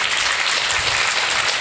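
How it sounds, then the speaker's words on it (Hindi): Steady, dense applause from a church congregation, sustained at an even level throughout with no gaps. "तालियां यीशु के लिए बजाओ"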